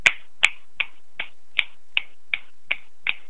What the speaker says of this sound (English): Everybody snap with us.